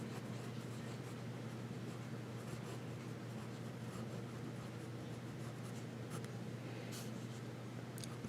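A fountain pen with a medium steel nib and black ink writes on paper, giving a quiet, continuous scratchy glide with occasional faint ticks of the nib, close and alone.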